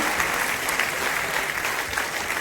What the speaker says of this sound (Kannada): ಅವರಿಗೂ ಒಂದು ಚಪ್ಪಾಳೆ ಮೂಲಕ ಧನ್ಯವಾದಗಳನ್ನು ಸಮರ್ಪಿಸೋಣ